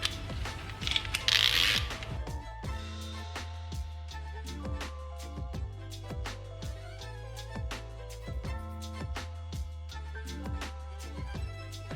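A ratchet wrench with a 17mm socket working the brake caliper bolts on a Toyota Camry front brake job, with repeated rapid clicking bursts and a metallic clank at the start, close and clear.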